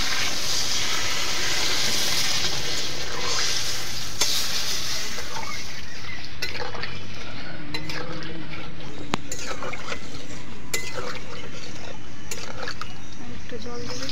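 Potatoes cooked down in spices for a katla fish curry get water added, giving a steady frying hiss and stirring scrape that sizzles throughout, with speech heard over it.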